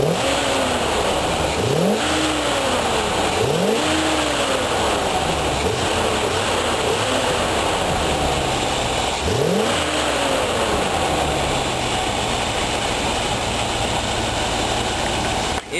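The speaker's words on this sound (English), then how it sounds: "Crank it up a few times for you." A 1975 Corvette Stingray engine revs repeatedly, several rising and falling throttle blips over a steady, loud idle rumble, with no talking.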